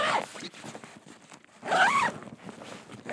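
A clothing zipper pulled open in two quick strokes, a short rasp at the start and a louder, longer one near the end, close and clear with no voices, in a camping setting.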